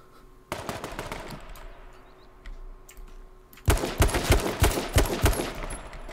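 Gunshots in the H1Z1 video game, scattered sharp cracks early, then a close, loud cluster of rapid shots in the second half.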